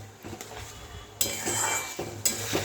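A spoon stirs a masala of tomatoes, ginger, cumin and whole garam masala in a pan, making close scraping and clinking sounds in uneven strokes over a soft background sizzle. No voice is heard.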